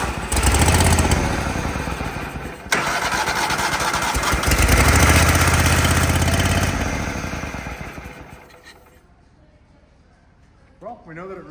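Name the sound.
Toro Wheel Horse lawn tractor engine running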